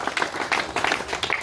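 Audience applause for dignitaries at a memorial cricket tournament event in Malvan, brief crowd clapping in a few uneven bursts.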